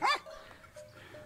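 A single short sheepdog bark rings out at the start, followed by faint soft whimpering sounds in a quiet highland pasture during sheep shearing.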